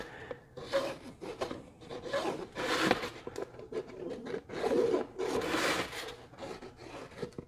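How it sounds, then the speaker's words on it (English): A pencil tracing around and lightly scoring beer box cardboard, making close scratchy rasping strokes in uneven bursts with short pauses, heard alone. "So I'll just go around this with my pencil and lightly score it."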